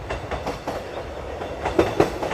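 A train rolls past nearby with a steady rumble and rhythmic clattering, a couple of louder knocks standing out near the end, and no talk over it.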